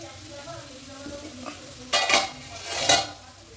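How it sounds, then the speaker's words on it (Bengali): Marinated chicken added to a pan of onions fried until red, making two loud clattering, sizzling bursts of metal scraping and stirring over a quieter kitchen background, with no talk. "এবার এখানে ম্যারিনেট করা চিকেনটা দিয়ে দেবো।"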